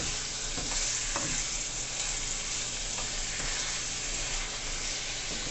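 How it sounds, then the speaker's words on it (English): Pepper steak frying in a pan sizzles softly while a utensil stirs it, with a few scraping strokes over a steady low hiss and no voices. "so I have to be using my lefty to stir"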